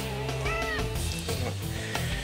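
A hungry cat meows several times before being fed, its drawn-out, rising cries close by amid steady room noise.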